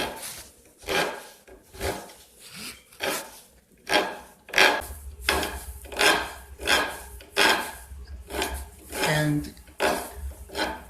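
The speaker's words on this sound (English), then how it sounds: "I'll come in with my round sanding blocks and finish that shape." Round sanding blocks rasp against the wooden heel of a cigar box guitar neck in a steady series of about a dozen firm back-and-forth strokes, close and fairly loud.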